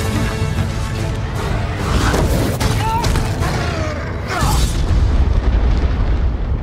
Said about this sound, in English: Was that an earthquake? That, my lad, was a dragon.